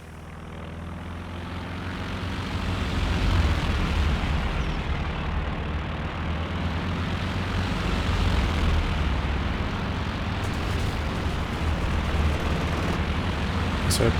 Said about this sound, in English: So doing a test on the suppression of these sector assault planes.